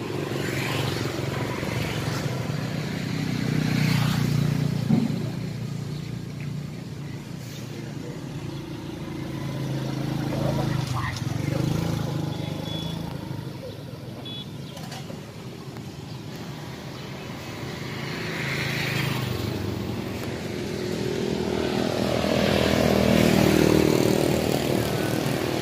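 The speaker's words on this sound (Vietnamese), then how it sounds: "Bô xin cho tiếng nổ ấm và thông nha anh em." Engine and exhaust of a 2008 Honda Future Neo motorcycle fitted with an aftermarket exhaust, a steady low running drone that swells and eases over about twenty-five seconds, close by and without talk.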